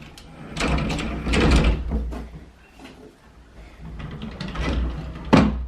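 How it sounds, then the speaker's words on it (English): A closet door is opened in a home during a closet organizing job, with a few soft knocks and a sliding rumble spread over several seconds, fairly close, ending in a short sharp clack. "Open the other door."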